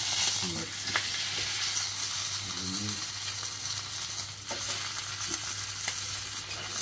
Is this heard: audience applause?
no